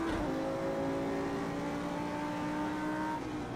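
Engine of an Audi R8 road car in a racing video game on the Bathurst circuit: a steady, loud engine drone whose pitch falls gently throughout, with no talking.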